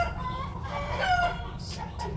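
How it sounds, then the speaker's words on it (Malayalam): A hen loudly cackling and clucking after laying an egg, a continuous nearby squawking with harsh, repeated calls over a noisy outdoor background. "ഒരു മുട്ടയല്ലേ ഇട്ടത്, 100 മുട്ട ഇട്ടത് മാതിരി ബഹളം വെക്കണം"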